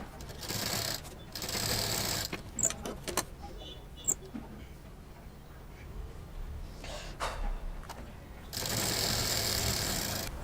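Sewing machine stitching a shopping bag, bursts of rapid mechanical buzzing at the start and end with quieter handling clicks and rustles between, close by.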